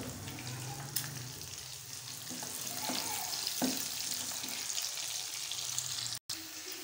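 Onions frying in hot oil for chhab roast pota kaleji, a steady close sizzle with occasional clinks and stirring scrapes, no voices.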